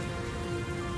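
Heavy typhoon rain pours steadily in a short, dense, even hiss of drops drumming on surfaces, with no distinct individual splashes and no voices.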